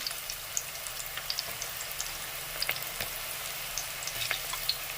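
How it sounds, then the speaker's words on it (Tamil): Oil sizzles steadily in a pan on a low flame with scattered small pops and crackles, a gentle, even frying sound with no voices. "எண்ணெய் நல்லா காஞ்சிட்டதுனால சிம்மில் வச்சுக்கோங்க"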